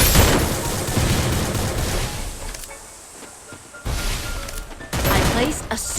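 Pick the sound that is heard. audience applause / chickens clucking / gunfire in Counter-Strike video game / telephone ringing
gunfire in Counter-Strike video game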